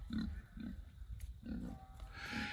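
A KuneKune pig grunts up close in a series of short, low, rhythmic grunts repeated about every half second.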